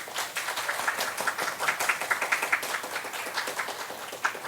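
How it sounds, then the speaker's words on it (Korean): A church congregation claps to welcome visitors during a Sunday service, a fairly soft, even round of applause with individual claps standing out, continuing steadily throughout. "큰 박수로 환영해 주시면 감사하겠습니다"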